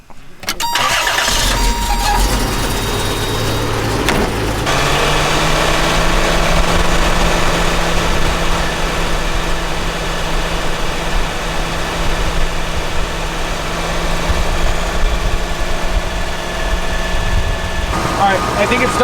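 A 3.4 engine swapped into a 1988 Toyota pickup runs at a steady idle while the cooling system is bled, a loud close continuous hum after a rough start-up, with a voice speaking over it.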